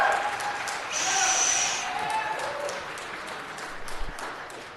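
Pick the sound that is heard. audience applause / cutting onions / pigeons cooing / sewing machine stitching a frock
audience applause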